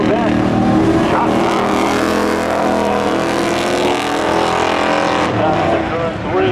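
A Corvette races in spectator drags at Seekonk Speedway, its loud engine roaring close with shifting pitch, mixed with crowd and commentator noise throughout.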